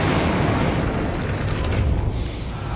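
Incendio fire spell cast in Hogwarts Legacy, a close, loud burst of roaring flame with a rumbling whoosh that fills the short moment.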